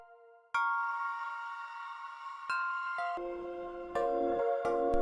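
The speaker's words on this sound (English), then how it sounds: "I decided to add in a little bell arp that would copy the exact chord progression from the original melody" Bell arpeggio synth in an FL Studio dark melodic trap beat, bright tuned notes stepping through a chord progression in clean repeated patterns, with deeper bass notes entering halfway and rising in level, alone with no voices.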